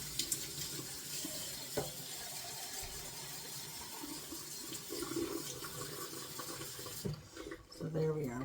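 Warm water runs from a kitchen tap into an empty tin can for chili, a steady rushing hiss lasting several seconds before cutting off, then some clatter.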